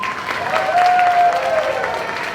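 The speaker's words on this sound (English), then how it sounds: "Please give them a round of applause." Applause from a crowd at an elementary school kindergarten promotion ceremony, a steady patter of many hands clapping, moderately loud, with a faint tonal hum running underneath.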